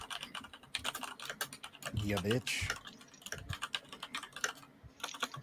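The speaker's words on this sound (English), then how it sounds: "There's a lot of typing going on right now." Rapid clicking of a computer keyboard being typed on during an online tabletop role-playing game session, close and steady, with voices talking over the keystrokes.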